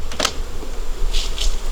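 Honeybees buzz close by while a beehive is opened for an October inspection, a continuous insect hum with a few sharper passes as bees fly near, heard alone without talk.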